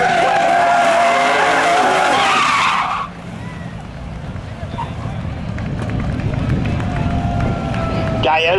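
A race car spins out at the end of a spectator drag race at Seekonk Speedway, its engine and tires screeching loudly and steadily before the sound cuts to a lower, rumbling idle under continuing crowd and track noise.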